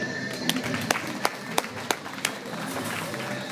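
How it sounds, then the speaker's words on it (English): Applause from a gala audience at a child development center's annual event, heard as a short run of scattered, distinct claps over a steady crowd murmur rather than full sustained clapping. "And we also want to give a round of applause to Janaya Chambers"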